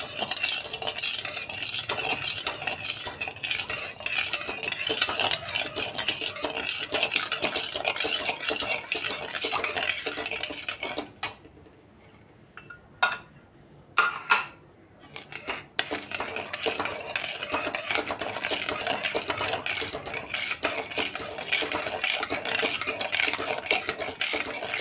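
A spoon stirs sugar in a metal pan until it dissolves while making syrup for kaju katli. Steady scraping and clinking goes on near and fairly loud, breaks off for a few seconds with a few sharp knocks, then starts again.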